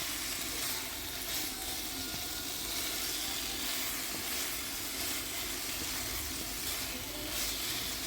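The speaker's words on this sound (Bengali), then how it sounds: "সমস্ত কিছু দিয়ে আমি আবারও ভালো করে নেড়ে কষাতে থাকবো।" Banana flower stir-fries in a pan with fried potato and Gobindobhog rice, giving a steady, moderately quiet sizzle and hiss that continues without a break and with no talking.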